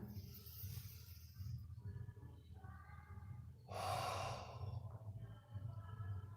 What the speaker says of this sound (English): when I breathe in, expand.